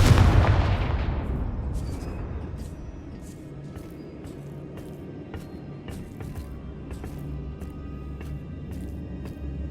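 A Confringo blasting spell from the Hogwarts Legacy video game bursts with a loud, deep boom at the start, then rumbles away into a long low tail broken by a few faint sharp crackles.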